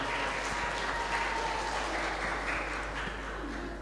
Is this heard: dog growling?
no